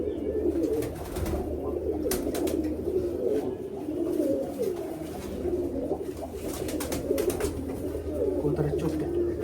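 A high-flying full naptha pigeon coos close by in repeated low throaty phrases, with faint rustling and other noises in the background.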